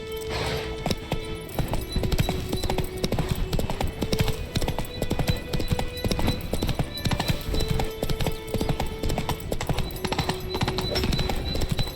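Roach the horse's hooves clip-clopping in The Witcher 3 video game, a steady, rapid trotting rhythm that is continuous and fairly loud, with game sounds in the background.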